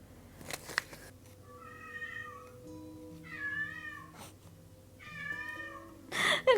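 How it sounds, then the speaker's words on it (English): A house cat meows three times, drawn-out and fairly close, with pauses between calls in an otherwise quiet room. "I don't know if you can hear that, but that's the cat."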